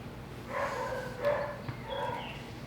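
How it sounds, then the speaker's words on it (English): A few dogs bark and yip somewhere in the distance, faint and scattered over a low background hum. "I can hear those dogs in the background"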